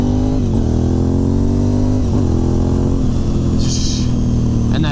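A Honda RC51 motorcycle engine revs loud and close, its deep throb rising in pitch in repeated pulls and dipping between them, with a short high whine near the end.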